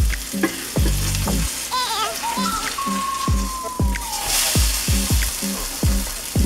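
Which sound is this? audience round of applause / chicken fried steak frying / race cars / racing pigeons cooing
chicken fried steak frying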